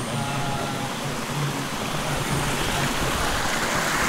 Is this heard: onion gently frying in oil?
no